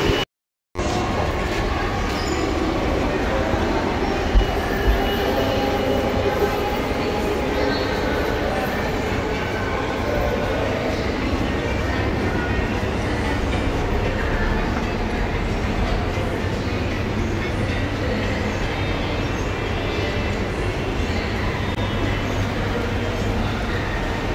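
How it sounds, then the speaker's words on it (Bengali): A metro train running makes a continuous close rumble and rattle heard from inside the carriage for the whole stretch, with faint chatter in the background. "তো মেট্রো থেকে ফাইনালি নামা হলো।"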